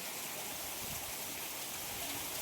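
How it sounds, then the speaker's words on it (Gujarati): Heavy rain pours down steadily in Porbandar, a dense, continuous hiss of water falling and running off, with no voices. "અત્યારે ફૂલ વરસાદ ચાલુ છે"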